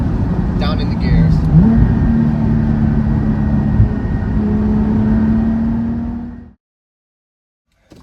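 A Porsche 718 GT4 with a Cargraphic X-pipe racing exhaust in loud mode blips and drones through gear downshifts, engine pitch stepping and holding before the sound cuts off abruptly, heard up close from the car.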